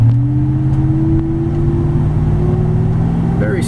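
A 2007 Ford F-150 Harley-Davidson Edition pickup cruising along with a steady, smooth engine drone and road hum, loud and close from inside the cab, with no voices.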